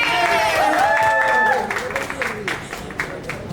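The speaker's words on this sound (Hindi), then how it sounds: "पहले हम ताली बजा देते तुम्हारे लिए।" Audience clapping at the launch event of a drama show, a burst of applause from the crowd mixed with cheering voices and a tonal sound at first, then scattered claps continuing as the noise settles.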